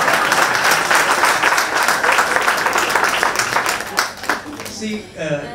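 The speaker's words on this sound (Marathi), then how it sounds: "जोरदार टाळ्या." Loud, dense applause from a seminar audience fills the hall without a break, then tapers off near the end as a voice begins to speak.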